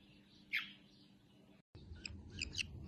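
A young Chinese hwamei thrush, rescued sick as a fledgling, giving faint, thin chirps indoors: one brief call, then a cluster of quick, high tweets after a short dropout.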